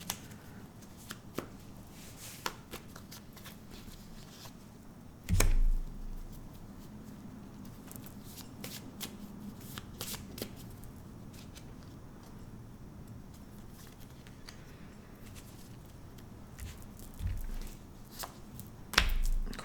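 Tarot cards handled and laid down on a table to cover other cards, producing quiet soft taps and slides with a few sharper thumps, scattered through a low, quiet background.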